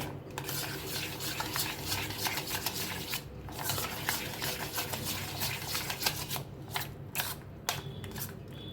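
Spoon stirring a thick shrikhand mixture with saffron in a bowl, a continuous close scraping and squelching with rhythmic strokes and short pauses, no talking.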